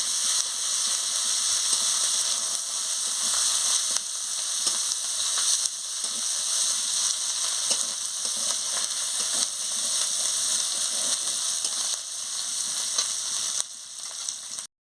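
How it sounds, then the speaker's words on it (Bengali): Ginger, cumin and garlic paste with chili and turmeric powders sautéing in a pan, a dense, even hiss of frying oil that holds loud and close throughout, with faint stirring scrapes beneath and no talk. "দিয়ে মশলাটাকে ভালো করে কষিয়ে নিচ্ছি।"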